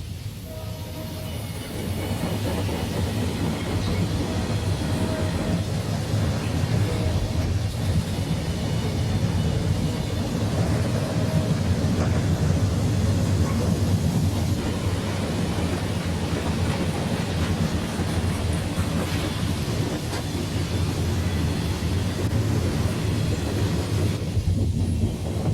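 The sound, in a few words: Conrail local freight train working on the siding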